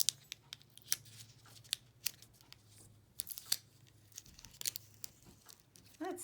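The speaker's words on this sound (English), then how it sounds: "I've got some scissors here, so let's take the easy way out." Scissors snip repeatedly through crinkly plastic packaging, sharp close-up cuts in an uneven rhythm with faint rustling between.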